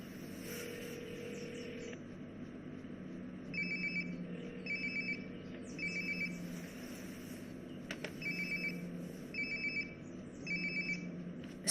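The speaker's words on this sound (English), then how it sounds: "Sounds like my phone is definitely nearby." A phone rings nearby in the video game Life is Strange: Before the Storm, with a repeated electronic trill in short, evenly spaced bursts over a quiet, steady background hum.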